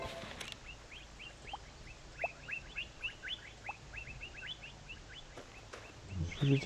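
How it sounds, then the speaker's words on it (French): A small bird in a video game chirps in a quick series of short, bright, high tweets, repeated many times at moderate volume over a quiet background, with a few soft knocks. "Ah là, il y a un oiseau."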